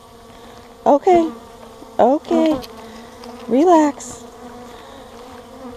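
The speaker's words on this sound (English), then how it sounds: "Mad bees." Steady buzzing of agitated honeybees at a hive hums throughout, broken by three short voiced exclamations from a person nearby.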